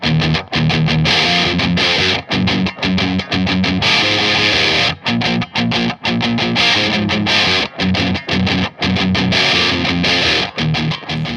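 Loud, heavily distorted electric guitar riffs through a Boss DS-2 Turbo Distortion pedal, with thick saturated chords and brief choppy gaps between strummed bursts, played continuously.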